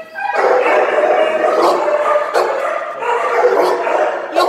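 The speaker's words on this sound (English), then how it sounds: "He's barking, but his hair is not up." A dog barks repeatedly and loudly at close range, a continuous run of yips and bow-wows with a few whimpering tones mixed in, no talk over it.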